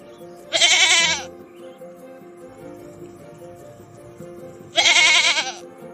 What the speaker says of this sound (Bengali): ছাগল ছানা। Kid.